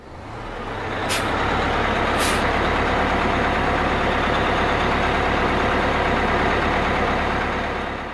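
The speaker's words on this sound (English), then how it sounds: "The bus pulled up then" A bus pulls up with a steady, loud low engine rumble, and two short, sharp air-brake hisses sound near the start.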